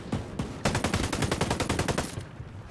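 Automatic rifle fire in Ghost Recon Breakpoint, a couple of single shots followed by a rapid sustained burst of rhythmic cracks that cuts off abruptly, loud and close.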